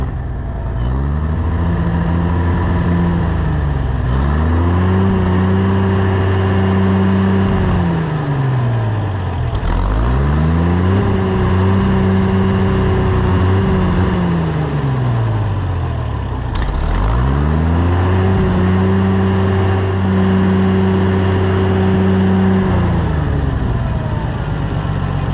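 An Oliver 770 tractor engine with a newly installed carburetor runs rich at idle, its steady rumble repeatedly rising and falling in drawn-out surges that recur about every six seconds, loud and close throughout.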